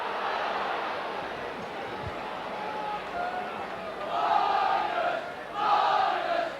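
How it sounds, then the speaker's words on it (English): Rugby league crowd at a 1990 Leeds v Castleford playoff match: a broad, distant murmur that rises into two louder cheering swells near the end. "And the Leeds crowd starting to get behind Leeds now."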